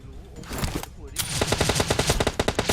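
Rapid automatic gunfire in PUBG Mobile bursts out in a fast, loud string of shots after about a second of quieter rumble and scattered earlier shots, with faint voices in the background.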